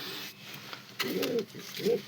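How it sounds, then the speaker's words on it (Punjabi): A pair of breeding pigeons, a brother-and-sister pair, give two soft, low coos close by in a quiet setting. "ਉਹ ਕਬੂਤਰੀ ਤੇ ਆ ਕਬੂਤਰ"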